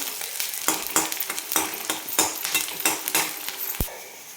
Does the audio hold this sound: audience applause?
no